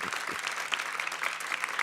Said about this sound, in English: can we please welcome him with a round of applause?